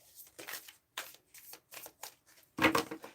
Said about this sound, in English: Now, if I shuffle twice all the way through, nothing pops out.